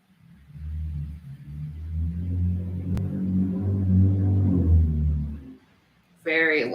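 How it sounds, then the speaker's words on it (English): A very loud car passes close by, a low rumbling engine swelling and fading over several seconds before a brief voice is heard at the end. "Very loud car just passed by."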